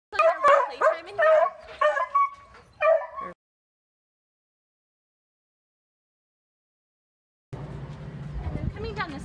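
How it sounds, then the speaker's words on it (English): Senior dogs in a small daycare yard give a cluster of short barks and yips over the first few seconds, then a long silence, followed by a low rumbling noise toward the end. "where we are now is our small daycare yard. We have our senior dogs in here"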